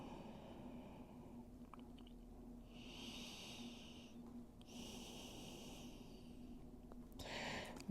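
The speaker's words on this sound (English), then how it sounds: "Take a big deep breath in" Slow, quiet breaths during a gentle yoga flow: two long airy exhales drawn out over a couple of seconds each, followed by a shorter breath near the end, close and soft in a calm room.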